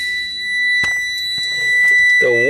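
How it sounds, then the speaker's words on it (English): Low air pressure warning buzzer in a truck cab during a pre-trip brake check, a steady high electronic tone sounding continuously and loudly throughout, with faint knocks and a brief pneumatic hiss or rumble near the end. "The warning light and the buzzer are working properly."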